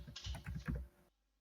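Quick, soft typing on a computer keyboard: a short burst of several close keystrokes that stops abruptly into silence, with no voices.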